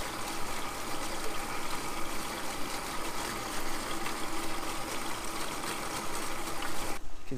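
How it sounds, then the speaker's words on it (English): Garden hose water gushing steadily out of a house downspout, a continuous broadband rush and splash close by that cuts off abruptly near the end. "You can see how much water is flowing out of here."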